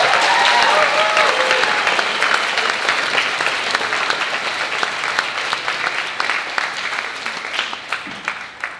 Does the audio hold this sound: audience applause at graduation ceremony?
yes